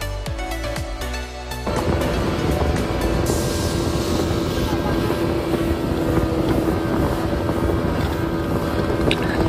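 Riverboat on the Musi River in Palembang, its engine giving a loud, steady motor drone with wind buffeting the microphone throughout.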